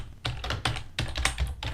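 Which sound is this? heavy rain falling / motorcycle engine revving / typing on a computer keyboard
typing on a computer keyboard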